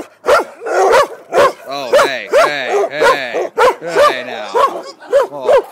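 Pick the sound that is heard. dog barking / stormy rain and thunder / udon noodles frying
dog barking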